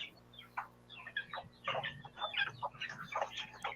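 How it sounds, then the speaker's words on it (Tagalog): Chickens cluck and chatter in irregular bursts at close range, several birds overlapping, over a low steady background hum. "minsan mag-alaga kami ng mga manok"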